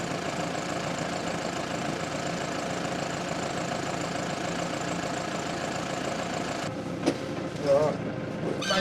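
A tractor engine runs at a steady, throbbing idle close by, a continuous mechanical drone with a small clunk near the end.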